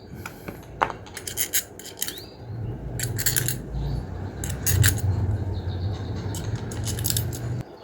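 Metallic clinks and light scraping of bolts being fitted and tightened on a fan motor during a GMC 18-inch fan modification, close and intermittent over a low background hum.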